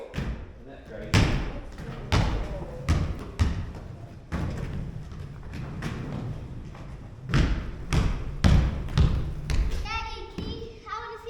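A basketball bounces with loud, heavy thuds at irregular intervals inside an old barn, the impacts spaced out and close, with children's voices and talk around them.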